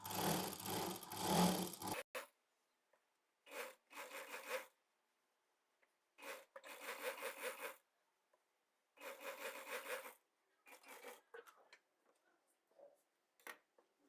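A sewing machine stitches elastic onto a straight pant in several short runs of rapid mechanical whirring, each about a second long and separated by silence, after a brief noisy stretch at the start.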